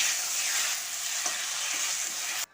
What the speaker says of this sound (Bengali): টমেটো কেচাপটা দিয়ে কিমো আলুর সঙ্গে আরও একবার মিশিয়ে নিচ্ছি